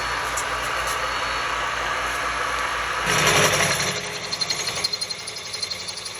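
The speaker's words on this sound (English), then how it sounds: "So let me show you how I go ahead and bore this." A 7/8 drill bit bores into a frame tube on a 1946 Harley-Davidson WR 45 flathead racer. A steady mechanical whine grows louder partway through, then turns into a rhythmic, pulsing chatter as the bit bites.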